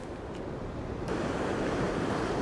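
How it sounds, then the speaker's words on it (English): Choppy sea surf and breezy wind at Sant Elm on Mallorca's coast, a steady broadband wash of waves with wind buffeting the microphone, continuous and fairly close. "A little bit quiet today, a little bit breezy, and the sea's a little bit choppy."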